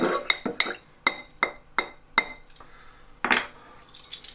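Corn flour and soy sauce being mixed for a sauce, a utensil clinking sharply against a bowl in quick irregular taps, about ten close strokes then a brief scrape.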